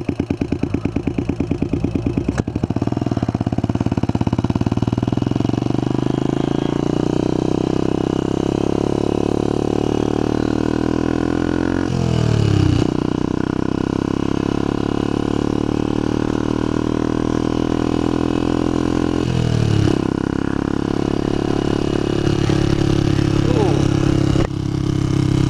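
A motorcycle engine idling steadily while warming up, a loud close rumble with a few brief revs and a person talking over it.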